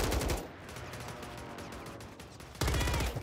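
Bursts of SVA 545 rifle tap fire in Call of Duty on Rebirth Island, loud rapid shots at the start, a quieter stretch of mixed game noise, then another dense volley near the end.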